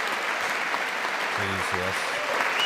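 Audience applause during a joint presidential address in a large chamber, steady and continuous throughout, with a brief spoken remark over it.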